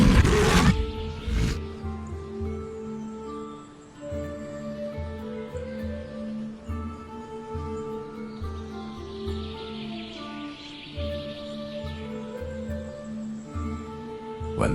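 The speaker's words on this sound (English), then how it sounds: "They pounce on the wounded lion with ferocity and desperate resistance." Lions fighting on the savanna, pouncing on a wounded lion, give out deep roars and snarling growls that rise and fall steadily for about fifteen seconds over a dense, continuous wildlife backdrop, with no voices.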